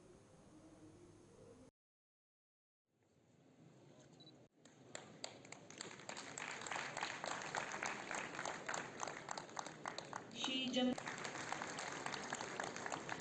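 Clapping from an audience at a government social welfare event in Jammu and Kashmir starts after a brief silent gap and builds into steady, moderately loud applause with scattered sharp claps.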